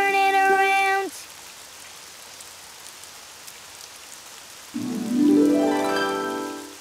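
Rain falls outside in an animated children's show, a soft, steady patter under everything. Sung or voiced tonal phrases cover it at the start and again near the end.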